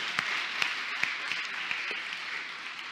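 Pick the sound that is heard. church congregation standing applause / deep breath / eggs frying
church congregation standing applause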